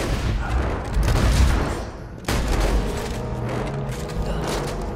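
Loud bursts of shotgun fire in Borderlands 2, with mechanical clacks and booms, including a sharp blast midway, dense and continuous video game combat.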